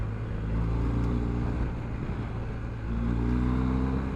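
A 2021 BMW R1250GS Rally SE motorcycle's boxer engine held at steady revs, a loud, continuous low drone with rising tone near the end, heard from close by with no talking.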